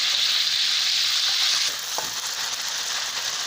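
Chicken pieces fry in hot oil to a light brown, giving a loud, continuous sizzle that eases partway through, with a single brief clink, and no talking.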